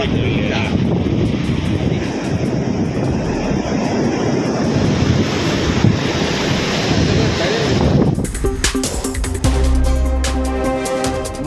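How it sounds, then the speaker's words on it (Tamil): Rough, surging sea waves crash against the shore at a fishing village in Mayiladuthurai district during severe sea turbulence, a loud continuous roar with heavy wind buffeting the microphone, changing to a different noisy texture near the end. "மயிலாடுதுறை மாவட்டம் சின்னங்குடி மீனவ கிராமத்தில் கடுமையான கடல் சீற்றம்."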